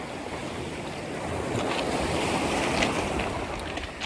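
Sea surf washing ashore in a steady broadband roar, swelling slightly louder midway with gusts of wind buffeting the microphone, no voices present.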